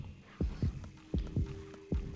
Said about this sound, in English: Anytime you're near an enemy, you hear your character's heartbeat, and it gets more and more intense as you get closer to an enemy.